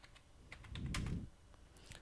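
Keys on a computer keyboard are tapped softly in a short burst of a few quick clicks, close and quiet, with no talk.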